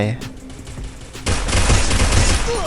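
Rapid automatic gunfire in the mobile battle-royale game Free Fire, a sustained burst of shots that erupts partway through and continues loud and close, after a quieter stretch of lighter in-game sounds.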